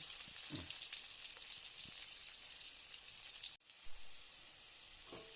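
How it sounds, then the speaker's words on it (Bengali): Boiled potatoes fry in a pan, giving a soft, even hiss of hot oil with faint crackles and a brief break in the sound partway through. "এখন দিয়ে দিব সিদ্ধ করা আলু এখন ভেজে নেব"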